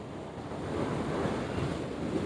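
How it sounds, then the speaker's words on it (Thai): Sea waves wash onto Phuket beach, a continuous broad surf roar mixed with gusting wind against the microphone, swelling slightly midway, with no voices. "ทะเลภูเก็ตค่ะเพื่อน ๆวิวสวยนะคะ"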